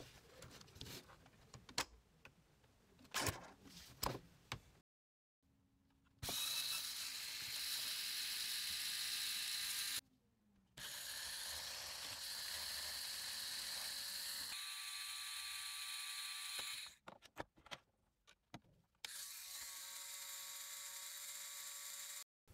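LEGO XL motors, both genuine and knockoff, whir in a steady electric hum during several long runs, broken by clicking and rattling handling noises between tests.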